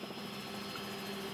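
Inside a helicopter in flight, a continuous rotor and engine drone fills the cabin, steady and loud with no speech over it.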